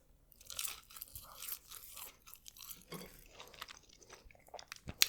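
Close, crisp crunching and chewing of thick Burger King fries, repeated bites and mouth sounds in an irregular rhythm, soft and intimate with no talking, ending in a sharp louder crunch.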